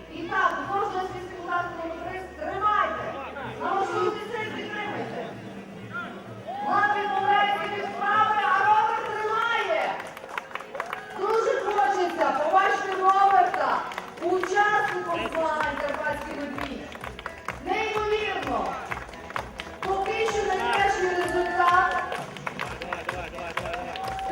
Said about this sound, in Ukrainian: оплески наймолодшим глядачам